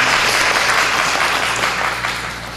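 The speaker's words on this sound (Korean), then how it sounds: "열심히 활동하신 전체를 다 같이 박수 한번 드리겠습니다" Loud, close applause from a church congregation honoring its members, a dense sustained clapping that fades gradually toward the end.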